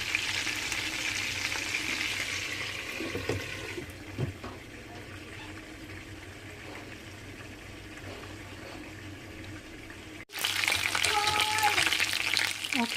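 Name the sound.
chicken frying in a pan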